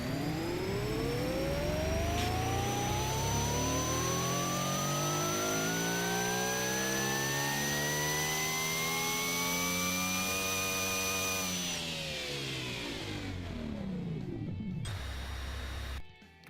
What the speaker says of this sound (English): So we're going to do 2 data pulls just to see the engine running and make sure it's all good.